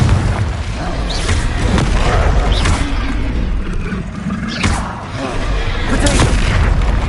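Confringo fire spell blasts in the video game Hogwarts Legacy: several booming fiery bursts in quick succession over dense battle noise, with no talk.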